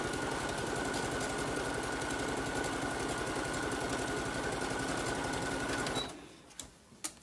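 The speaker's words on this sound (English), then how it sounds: "Keep sewing all the way around." A sewing machine stitches a zipper tote in a steady, rapid mechanical rhythm with a constant whine, running close and loud for about six seconds before stopping, followed by a few faint clicks and handling sounds.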